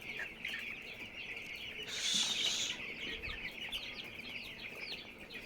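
Chickens on a farm, one of them paralysed, clucking and chirping faintly at a distance, with a steady high-pitched chatter of birds running through the whole stretch and a brief louder burst partway through.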